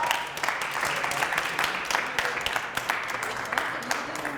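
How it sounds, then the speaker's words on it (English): A crowd applauding steadily, dense clapping from many hands that holds at an even level throughout. "Give a round of applause."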